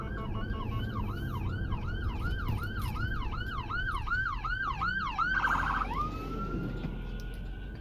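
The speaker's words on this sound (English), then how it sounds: "Got to get out of the way of the ambulance there." A wailing siren cycles up and down repeatedly, loud and close, then shifts to a rapid yelp before settling into a steady tone as traffic rumbles beneath.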